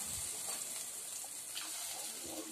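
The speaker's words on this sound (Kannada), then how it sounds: "ನಾಲ್ಕು ಲೋಟ ನೀರು ಹಾಕ್ತಾಯಿದ್ದೀನಿ" Water pours steadily into a cooking pot for egg biryani rice, a soft continuous splashing stream heard close and alone.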